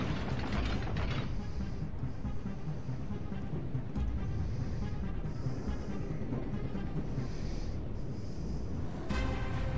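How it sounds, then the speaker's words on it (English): Warship gun turrets traverse in World of Warships, a steady grinding mechanical whir with ratcheting gear clicks running loud and continuous throughout. "Let's get these guns back around."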